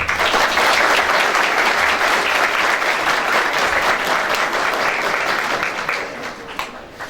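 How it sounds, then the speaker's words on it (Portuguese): Sustained applause from an audience at a Masonic lodge ceremony in Ouro Preto, dense and fairly loud throughout, tapering slightly near the end. "para o qual eu peço uma salva de palmas"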